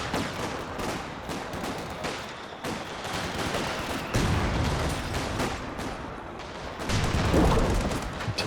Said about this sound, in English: Markov's AT gun connecting though.